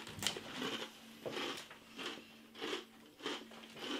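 Crisp crunching bites of Chakri Indian savoury rice sticks repeat about every second, each a sharp brittle crackle up close with quiet pauses between, no talking.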